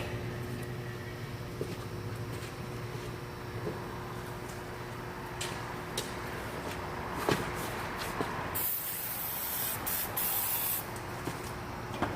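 Lubricant sprayed onto a muffler hanger on a 2005 Toyota Tacoma exhaust: a steady hissing spray near the end, with a few short clanks and clicks before it over a constant low hum.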